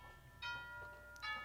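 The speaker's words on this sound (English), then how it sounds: "That's my doorbell." Two soft chime tones from a home doorbell, one at about 0.4 seconds and another just after 1.2 seconds, faint and somewhat distant in a quiet room.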